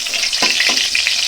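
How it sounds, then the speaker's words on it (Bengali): Mustard greens frying with garlic and dry chilli in a hot pan: a loud, close hiss of sizzling oil with a couple of short stirring scrapes, and no voices. "ভাজা ভাজা হয়ে আসলে শুকনো মরিচ সরষা শাক দিয়ে দেবে"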